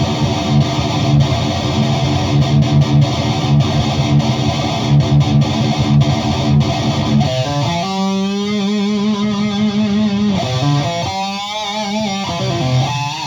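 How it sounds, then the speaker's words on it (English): A distorted electric guitar runs through an Aphex 104 flanger doubler effect, loud sustained chords and riffs with a subtle doubled, swirling shimmer, played close with no talk. "Here's the flanger doubler."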